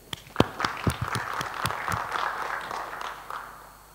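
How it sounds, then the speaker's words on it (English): A conference audience at an openSUSE.Asia summit applauds sponsors and donors, with sharp individual claps at first that build into a steady burst of many hands and then taper off. "let's give our applause to all the sponsorship and the personal donation"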